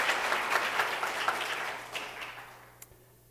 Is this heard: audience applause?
yes